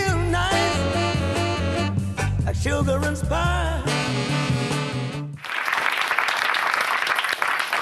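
Audience applause breaks out abruptly after loud music ends, a dense wash of clapping in a hall carrying on for the last couple of seconds.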